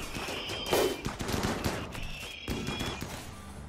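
Rapid machine-gun and rifle fire crackles through a RimWorld battle against mechanoids, bursts overlapping in a busy fusillade with a couple of sharper shots standing out.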